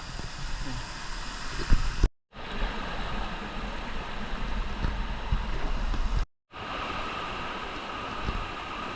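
A waterfall stream rushes steadily beside a hiking trail on Khao Chet Yot in Phatthalung. The water makes a loud, continuous broadband roar close by, with two brief dropouts to silence.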